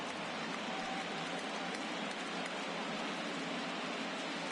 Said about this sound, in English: Rainy here tonight in Atlanta.